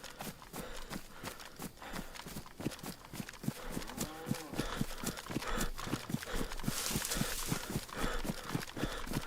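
Cattle sounds from the survival video game DayZ, set in summer Chernarus: a steady run of rhythmic hoof-like clip-clops with a low moo in the middle, mixed with game ambience and no talking.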